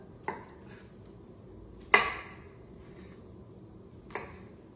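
A knife slicing rinsed mushrooms on a cutting board, three separate sharp cuts spaced out over a few seconds, close and fairly quiet between strokes.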